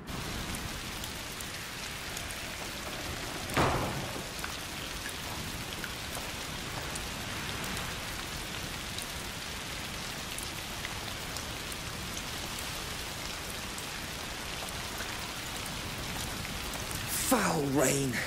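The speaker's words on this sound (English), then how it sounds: "Foul rain." Steady rain pours down in the A Plague Tale: Requiem game world, a dense continuous hiss with a couple of brief louder splashes or gusts rising above it, no voices.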